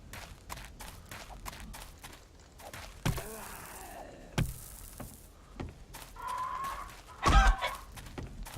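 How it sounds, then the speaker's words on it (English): A chicken in the video game 7 Days to Die, played with the War of the Walking Dead mod, gives a few brief clucks amid gameplay thumps and background noise, with no speech. "Okay, that was a chicken."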